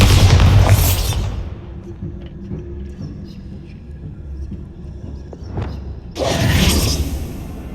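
A Bombarda blast spell goes off in Hogwarts Legacy with a booming burst that dies away. Quiet clicks and a swish follow, and a second heavy rumbling impact lands near the end.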